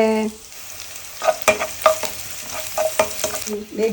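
Crushed ingredients frying in coconut oil, crackling and sizzling close up as a spoon stirs and scrapes in several quick strokes, with no talk.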